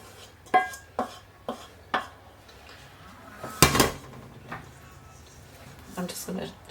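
Cooked mince pie filling scraped and spooned from a pressure cooker into another bowl, with several sharp metal-on-bowl clinks and knocks and one louder clatter, close and fairly sparse.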